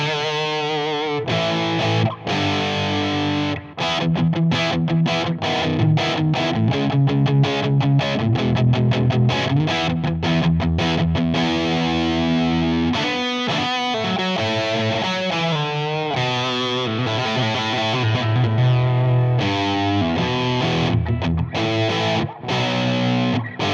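Electric guitar played through a Klon-style overdrive pedal set for fairly high gain, giving a light fuzz on clear riffs with chords and single notes, loud and continuous throughout with no talking.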